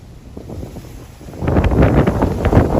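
Strong hurricane wind gusts of 80-plus mph buffet the microphone in flooded Punta Gorda, Florida, a low roar that builds into a louder, rougher surge halfway through, with no talking.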